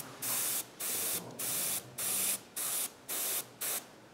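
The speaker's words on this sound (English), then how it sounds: "take the airbrush, and I use the airbrush over the" An airbrush spraying paint onto a miniature tree model, a series of eight even hissing bursts with brief pauses between, close and steady.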